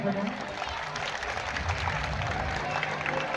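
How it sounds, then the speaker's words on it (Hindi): An audience at a Gurukul Academy cultural program in Kishangarh Renwal claps for Yogesh ji, a continuous crowd applause of moderate loudness with voices mixed in. "एक बार योगेश जी के लिए जोरदार आप सब ताली बजाएं।"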